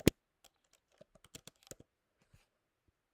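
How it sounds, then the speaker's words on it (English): Typing on a computer keyboard with a word prediction tool: a sharp opening click, then scattered irregular keystrokes, close and fairly quiet, with gaps of silence between short bursts. "and then I start typing."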